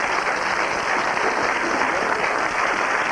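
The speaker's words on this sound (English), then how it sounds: "A round of applause for David, a good victory." A studio audience at a game show gives a continuous wash of applause, even and fairly loud throughout, with no individual claps standing out.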